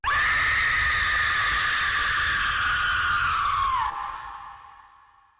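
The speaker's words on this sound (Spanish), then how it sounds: "En eso, escuché un grito." A single long, piercing scream holds loud and steady, then bends downward and fades out toward the end, alone with no other sounds.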